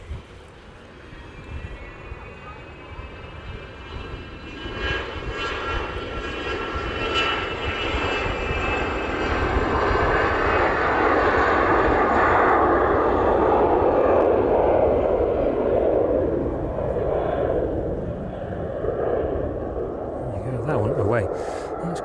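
A Citation business jet's engines roar as it takes off at East Midlands Airport, swelling from a distant whine to a loud broad rumble that peaks and slowly fades, with a voice talking over it.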